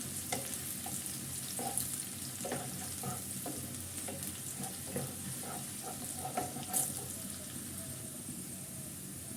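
Chopped onion with a few whole dried chillies frying in a pan for a mixed vegetable dish, giving a steady, moderate sizzle with soft, occasional stirring clicks and no talking.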